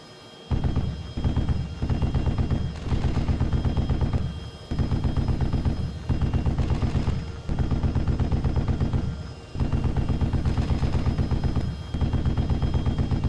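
Sustained heavy automatic gunfire in the military video game Arma, long loud rattling bursts broken by brief gaps, dense and close throughout, with no voices.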